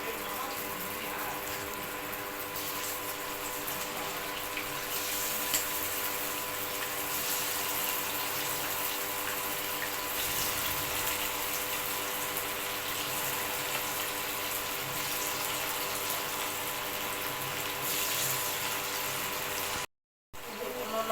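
Chicken 65 pieces fry in hot oil with a steady, close, rushing sizzle that hardly changes, then cuts out briefly near the end.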